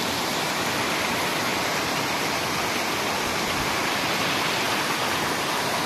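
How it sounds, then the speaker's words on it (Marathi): Bhairavnath waterfall near Jayanti Mata temple, falling into a cave, pours in a dense, constant roar of rushing water, close and loud, with no voices. "जयंती माता मंदिराच्या जवळ असणारा हा भैरवनाथ धबधबा गुफा आहे"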